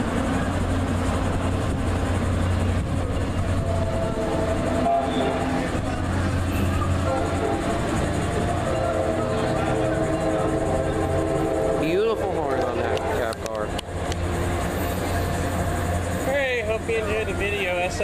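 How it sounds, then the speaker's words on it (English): A northbound Tri-Rail commuter train in South Florida, heading toward Boca Raton, rolls past with a steady, loud rumble and rail noise, and a horn tone may rise briefly near the end. "Here we go to the northbound tri-rail heading to Boca Raton"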